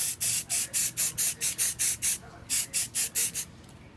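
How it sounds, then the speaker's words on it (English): A spray paint can applies camouflage sand color to an AR-15 rifle in about thirteen short, evenly spaced hissing bursts, close and loud, with brief gaps and a fading tail at the end. "I'm going to spray with the camouflage sand color"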